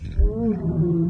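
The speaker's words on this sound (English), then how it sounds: "that is the sound of my stomach demanding tacos." Stomach growl effect in a radio ad, a low gurgling, rumbling groan that bends downward in pitch, close and fairly loud, with no one talking.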